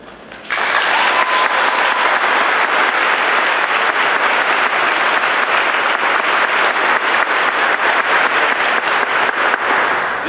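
A large crowd at the Altamont Lady Indians welcome home ceremony bursts into loud, sustained applause, dense clapping holding steady for about ten seconds after a brief quieter moment.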